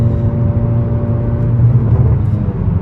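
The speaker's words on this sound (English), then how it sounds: "I just think that the exhaust is a little bit obnoxious." Low droning exhaust of a 2018 Honda Accord Sport heard from inside while driving, a steady rumbling hum with no talking.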